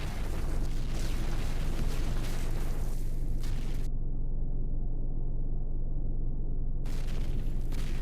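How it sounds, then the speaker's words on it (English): Gasoline zombies in Cataclysm DDA chain-explode in a fire, heard as a dense, continuous roaring rumble of overlapping blasts that stays loud throughout, with a brief muffled stretch in the middle. "The sound of the explosion should draw these guys into the fire, and they'll all sympathy detonate"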